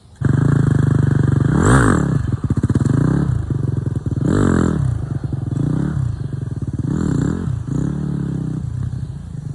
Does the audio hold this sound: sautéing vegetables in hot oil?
no